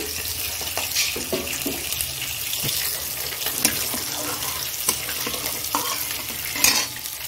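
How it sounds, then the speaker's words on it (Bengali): Water poured into a pan of frying fish curry, macher jhol, a steady close hiss and bubbling sizzle broken by scattered clinks and scrapes of stirring. "জল দিয়ে দিচ্ছি।"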